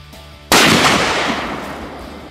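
A sniper rifle bullet strikes paint cans and sets off an explosion, one sudden loud boom that cracks out close and then rolls away into a fading rumble.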